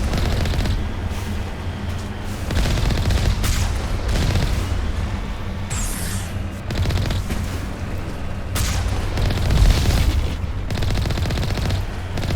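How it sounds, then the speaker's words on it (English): Machine gun fire in Mass Effect Legendary Edition, sustained rapid bursts of automatic gunfire with booming hits, loud and continuous over a steady game backdrop. "Sound of that machine gun, that sounds cool."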